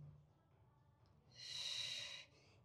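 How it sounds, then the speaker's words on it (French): A single loud, breathy exhale or snort during a bodyweight exercise workout, close and brief, rising out of quiet breathing and fading after about a second. "On inspire, on expire."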